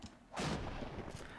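A fixed gun turret in the video game Fighting Force 2 fires a single heavy, booming shot that rings on briefly over background game audio.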